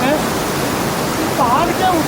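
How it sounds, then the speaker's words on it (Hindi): Water pours continuously down from a mountain, making a loud, broad, steady rush that fills the scene, with faint tonal sounds briefly over it. "ऊपर से लगातार पानी नीचे गिर रहा है"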